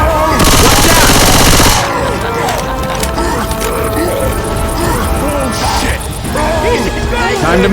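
Dense, loud automatic gunfire in the zombie shooter game Left 4 Dead 2, with long rapid bursts and scattered shots, crashes and character voices mixed throughout.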